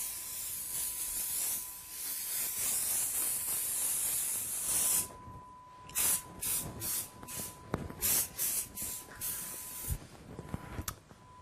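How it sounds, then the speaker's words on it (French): Brilliantine shine spray misted over long hair: one long continuous hissing spray, then a string of short, sharp bursts in quick succession, close and crisp, with a faint steady tone underneath. "On peut rajouter pour la brillance un peu de brillantine."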